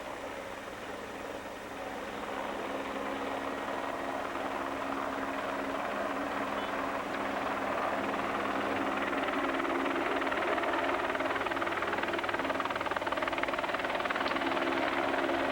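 A helicopter hovering over a road bike race, giving a steady, loud rotor and engine drone that builds in the first couple of seconds and then holds level without speech.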